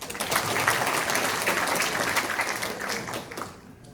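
Warm applause from an audience at a Korean event on local autonomy, as a council member is introduced. Dense, even clapping lasts a few seconds and then fades out.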